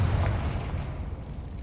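A Confringo blasting spell goes off in a video game, a loud, close low-end boom that rolls and rumbles steadily for over a second with no break.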